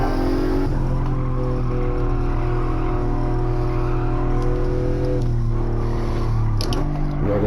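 Aston Martin DB11 engine in a racing video game, a loud continuous drone that holds steady then shifts pitch as it downshifts for a turn, close and unbroken.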